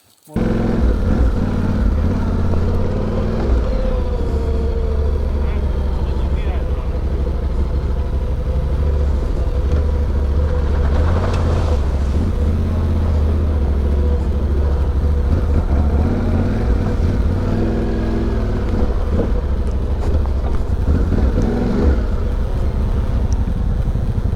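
A Honda CRF motorcycle pushing through a rugged creek bed, engine droning loud and steady throughout with rushing, wind-buffeted texture and splashing bursts midway.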